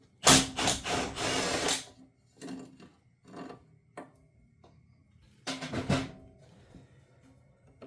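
Metal hammer blows on a part of a Honda Rancher ATV being worked on: a couple of bursts of rapid, sharp, close strikes with short pauses and a few single knocks between, no talking.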